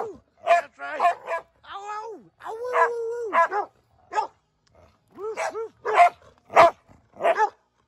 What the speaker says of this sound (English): Oh, look at two dogs.